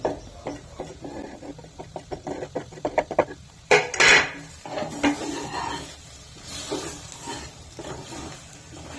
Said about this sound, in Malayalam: ഇതെല്ലാം നമുക്കിതിലേക്ക് ചേർത്തി അതും കൂടെ ഇട്ടിട്ട് നമുക്കൊന്ന് ഇളക്കി യോജിപ്പിച്ചെടുക്കാം